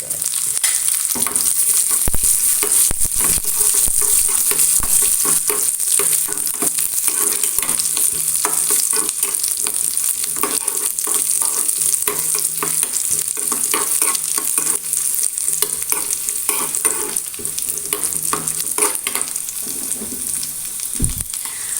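Raisins fry in a pan with a loud, steady hiss and sizzle, punctuated by frequent light clicks and scrapes of stirring, close and continuous throughout, no speech.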